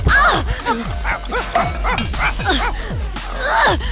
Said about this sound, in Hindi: यह कुत्ता कहाँ से आया?